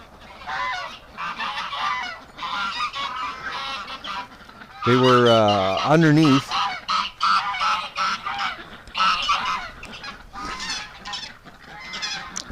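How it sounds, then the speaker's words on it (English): Geese fight and honk loudly at close range on a -14°C winter morning, a burst of harsh, rising honks standing out over ongoing noisy activity, while a person talks briefly. "oh, geese fighting."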